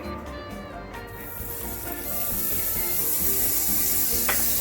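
Butter melts and sizzles in a pan before salted mushrooms are cooked, a hissing sizzle that swells louder after a couple of seconds, close up, with a faint scrape near the end and no speech.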